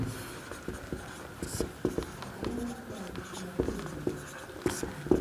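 Pen writing out a maths solution by hand, close scratchy strokes and taps in an uneven rhythm running continuously alone.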